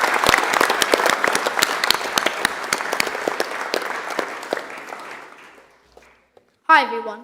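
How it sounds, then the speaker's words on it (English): Loud crowd applause at a sports awards night gradually fades out, followed by a short silence and then a voice starting to speak. "Give them a round of applause again"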